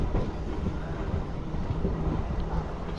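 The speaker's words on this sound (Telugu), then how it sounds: "మన ట్రైన్ కొంచెం స్లోగా తీసుకెళ్తున్నాడు" A Renigunta to Nellore MEMU passenger train rolls slowly, giving a steady low rumble mixed with wind buffeting, with no clear clatter peaks and no voices.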